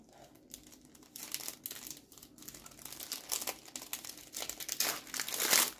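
Plastic packaging around small paper die cuts is opened and torn by hand, giving close, busy crinkling and crackling that grows louder and ends in a sharp tearing rip.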